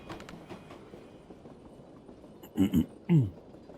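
A militia supply train in the tactical video game Tactical Breach Wizards gives a low rumbling rail drone, then two quick heavy clunks and a third louder one like wagon couplings, over steady game background noise.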